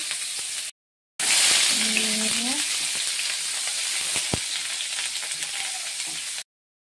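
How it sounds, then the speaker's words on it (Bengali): Loud, steady sizzling of onions frying in hot oil, a dense crackling hiss that starts abruptly after a brief gap and continues without pause. "তেলটা হয়ে গেছে, এবার পেঁয়াজ কুচিগুলো ফেলে দিলাম।"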